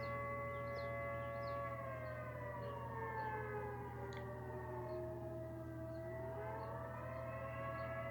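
A civil defense siren wails, its pitch sliding down and then back up in long sweeps, loud and continuous, with faint chirps over the top.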